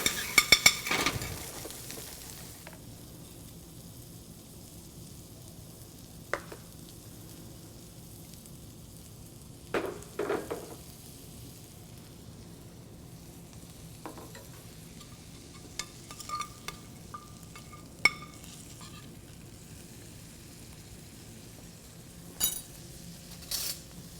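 Lobster cooking in roe butter in a pan: a faint steady sizzle runs throughout, broken by scattered clinks and scrapes of utensils against the pan, no talk.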